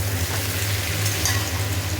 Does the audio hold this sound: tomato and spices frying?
yes